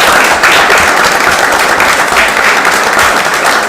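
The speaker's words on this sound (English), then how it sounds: "how about a round of applause for these students?" An audience at a town council meeting applauds students from a youth-in-government program, producing a dense, loud burst of clapping that holds steadily for a few seconds.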